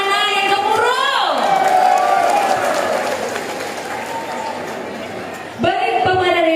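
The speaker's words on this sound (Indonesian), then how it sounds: "Tepuk tangannya mana yang gemuruh?" Volunteers cheer and applaud at a Batam mayoral campaign declaration, a loud crowd roar with scattered clapping under an amplified announcer's voice.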